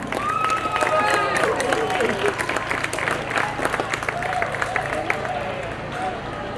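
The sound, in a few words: applause for Pascual Casán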